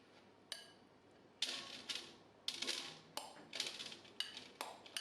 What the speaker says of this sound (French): on va maintenant étaler nos croûtons sur un papier sulfurisé